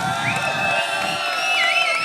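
A crowd at a traditional sangeet celebration cheers and whoops loudly, high excited voices overlapping in a steady, dense roar that carries on throughout.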